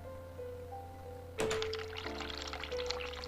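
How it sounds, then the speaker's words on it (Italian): Tap water gushes from a faucet left running in the game The Cat Lady, a sudden steady splashing pour that starts partway in and continues loud and close over a low humming background. "E ora me ne vado lasciando il rubinetto aperto."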